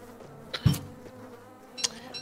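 Bees buzz in the video game Don't Starve Together, a short insect drone that swells briefly to a near, loud peak before fading to a faint hum.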